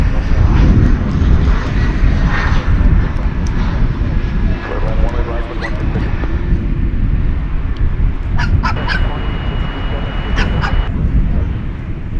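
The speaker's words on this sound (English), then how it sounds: "It's a Delta. Going to LaGuardia, flight 1180. It's an Airbus A220." A Delta Airbus A220 jet at DFW airport, bound for LaGuardia, gives a loud, close engine roar that stays strong throughout, with some brief high chirps and squeaks scattered over it.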